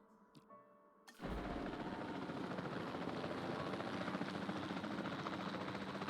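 Helicopter in the video game Jurassic World Evolution 2, a loud, dense rotor and engine roar that bursts in after a quiet second and holds steady and close to the end.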